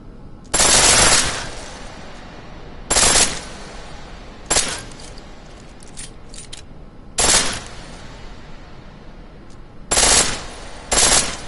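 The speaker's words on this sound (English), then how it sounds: "The pistol in full auto will take down targets fast" Short full-auto bursts from a pistol in Deus Ex: Mankind Divided, about six loud rapid volleys spaced a second or two apart, with quiet gaps between.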